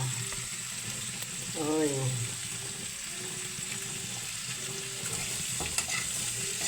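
Chicken feet frying in a pan and being stirred, a steady close sizzle running throughout, with a short spoken exclamation partway through.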